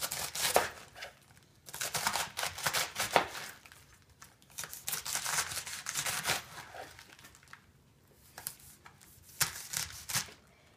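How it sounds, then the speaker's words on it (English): A knife chops through cabbage in quick, uneven bursts of crisp strokes on a board, with short pauses between runs, close and fairly loud. "And now we're going to chop the cabbage."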